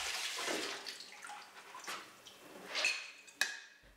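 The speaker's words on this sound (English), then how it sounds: "Simply rinse the seeds under water." Watermelon seeds being rinsed under running water, a steady close splashing wash with a few brighter clinks and drips near the end.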